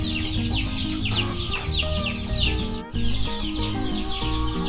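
A mother hen clucks in repeated short bursts, close and fairly loud, over a steady bed of music with a brief dip near the middle.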